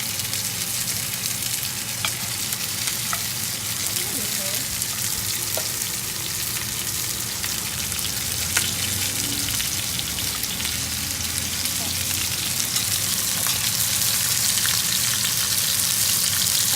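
Lamb chops fry in a pan with a constant, dense sizzle and crackle, close and steady throughout with occasional sharper pops.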